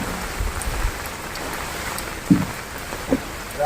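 Rain falls steadily around Munroe Island in Kerala, a continuous hiss of drops with a few louder knocks and splashes nearby.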